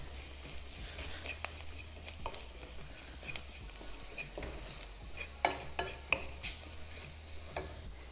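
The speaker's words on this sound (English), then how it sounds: "Now we're going to roast the spices for about 2 minutes." Whole spices with salt and turmeric roasting in a hot pan for matar paneer, a steady close sizzle with scraping stirs and light clinks of a spoon against the pan, no voices.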